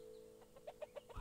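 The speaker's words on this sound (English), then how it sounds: "Go away, chicken!" A chicken in the VR game A Township Tale gives four or five quick, short clucks in a loose rhythm, fairly close but quiet, with no talk over them.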